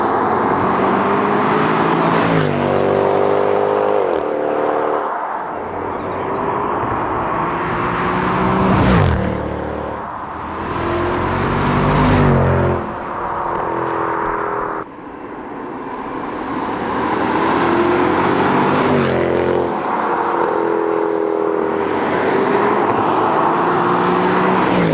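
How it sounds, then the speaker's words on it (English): A Mercedes C63 AMG passes outside on a Scottish road trip, its loud engine note rising and falling over several drive-bys, with gear-change sweeps and a steady roar throughout, no talking. "I just heard the car from the outside for the first time, and it sounds absolutely sick."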